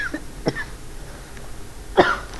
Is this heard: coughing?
yes